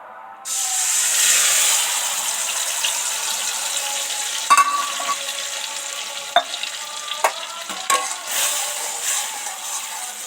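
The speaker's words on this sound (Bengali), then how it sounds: "এবারে লিকুইড মশলাটা তেলের মধ্যে দিয়ে দেবো" Liquid spice paste poured into hot oil while cooking a soybean and potato curry bursts into a loud, steady hissing sizzle, with a few sharp clicks of a spoon against the pan.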